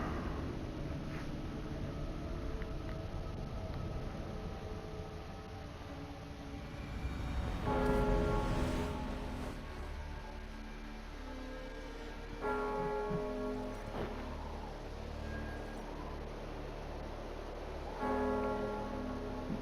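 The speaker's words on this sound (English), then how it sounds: "Bells are ringing." Bells ring in Assassin's Creed Valhalla, with resonant strikes swelling at intervals above a continuous low ambient game backdrop.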